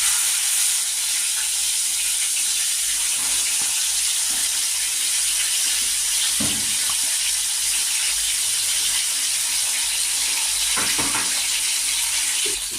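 Constant hissing sizzle of fish frying in hot oil, close and unbroken, with a few faint clinks of a utensil.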